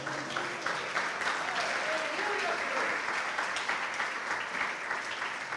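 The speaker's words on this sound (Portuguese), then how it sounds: "Aplauda ao Senhor." Church congregation applauding during a sermon, a steady wash of clapping with voices mixed in, fairly loud and continuous throughout.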